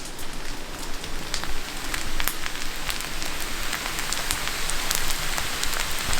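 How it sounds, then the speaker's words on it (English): Fried rice crackles and sizzles in a pan over high heat, a dense, steady patter of tiny pops and spits heard up close with no talking. "Rice now has been going on over high heat for almost 6 minutes, and we've heard it crackle"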